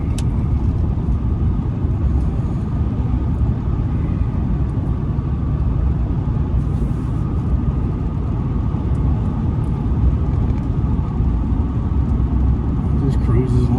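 A new diesel truck cruises down a countryside road with a loud, steady engine rumble and road noise, holding an even drone from start to finish.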